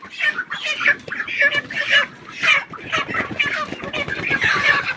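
Broiler chickens on a poultry farm, crowded together as they are loaded for lifting, fill the air with dense, overlapping clucks and squawks, loud and close in restless bursts.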